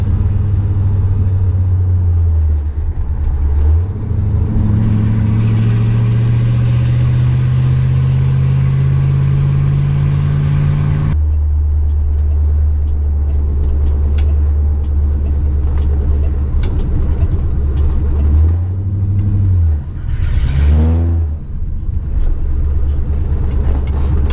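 A restored 1964 Ford Galaxie 500 driving down a road, its engine rumbling loudly and steadily up close, with gear changes and a couple of revving swells as it accelerates, no talking.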